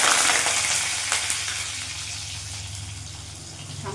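Diced potatoes fry in hot refined oil with a loud, continuous close sizzle that eases slightly over a few seconds.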